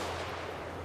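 Cannon fire in the video game Total War: Warhammer III, a short, loud burst of battlefield firing with a deep booming rumble, heard alone.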